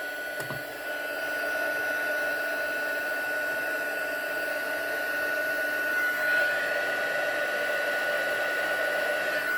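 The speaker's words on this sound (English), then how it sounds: "going to do a quick bring the heat tool up to temperature" An embossing heat tool warms up for a card-making project, giving a steady, close hairdryer-like whoosh of blowing air with a faint whine, continuous throughout.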